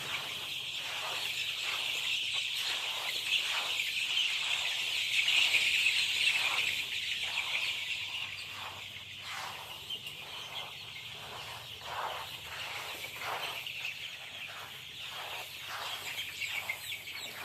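Chickens and chicks in a poultry brooding shed keep up a dense, continuous chirping and clucking while the rice-husk litter is turned over, faint rhythmic scraping pulses running beneath; there is no talking.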